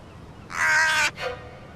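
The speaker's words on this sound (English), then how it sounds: "It's only a bird." A single crow gives a loud, close caw, then a shorter second call right after, against quiet background.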